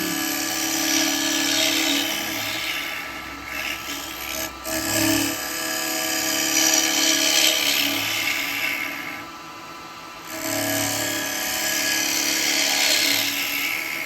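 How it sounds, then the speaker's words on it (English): A carbide tool cuts a wet eucalyptus bowl spinning on a wood lathe, giving a loud, continuous rasping, scraping whine that swells and eases as the cut passes, with one brief lull near the end. "And carbide is lovely for turning wet wood."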